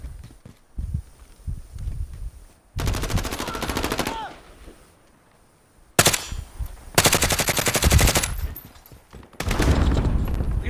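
Bursts of automatic gunfire from the video game Modern Warfare, loud rapid volleys in several separate stretches with quieter gaps of footsteps and ambient game sound between them.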